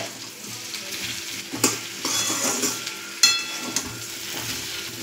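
Something fries briskly in ghee in a pan, a close, bright sizzle with a few sharp spatula scrapes and clinks of the pan, no voices.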